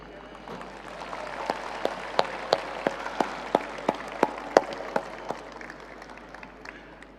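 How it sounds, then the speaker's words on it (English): A crowd at a global business event claps warmly, with a bed of scattered applause and sharper, louder claps landing in a fairly even beat before easing off. "give yourself a warm round of applause"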